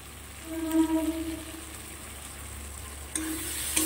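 Fried pointed gourd pieces go into a hot pan of spice masala for a fish curry, giving a steady, moderately loud sizzle and frying crackle with a brief stirring scrape near the end, no talk.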